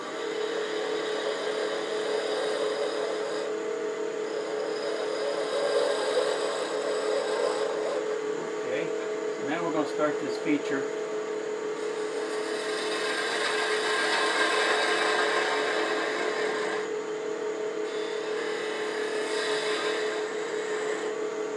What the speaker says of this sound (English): I think I probably want to do a little sanding.